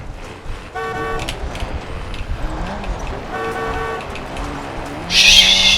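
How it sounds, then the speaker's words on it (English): A car in a driving video game races along with a steady engine drone, rising and falling gear-shift tones, and a sudden louder burst of tire or impact noise near the end. "Here, I'll just drive this car."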